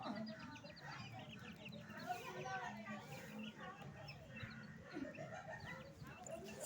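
Chickens clucking around a water dish at a home yard, steady overlapping clucks and farmyard chatter throughout, with a person talking over them.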